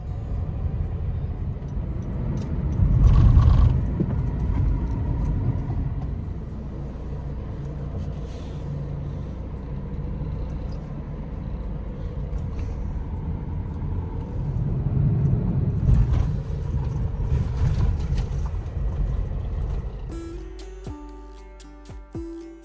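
A car on the road on the way to a service, its steady low engine rumble and road noise running throughout with swells around the start and middle, then a brief mechanical tonal patch near the end.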